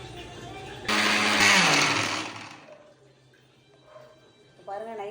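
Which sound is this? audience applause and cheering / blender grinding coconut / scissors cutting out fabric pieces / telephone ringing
blender grinding coconut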